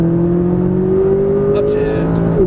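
A McLaren 570S engine accelerating on a track straight, a loud, steady droning tone climbing gradually in pitch, close and continuous throughout.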